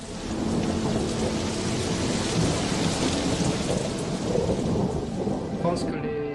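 Heavy rain pours steadily through a thunderstorm, a dense continuous hiss with low rumbling thunder underneath, loud and close throughout.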